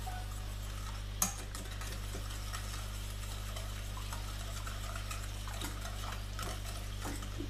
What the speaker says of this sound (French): Avec un fouet, vous allez mélanger l'ensemble.